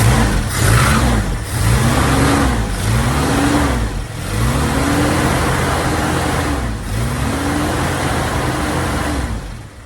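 The engine of a 1987 Dodge Raider with a carburetor being worked on, running slightly lean, revs up and down repeatedly in rhythmic swells, loud and close, with no talking.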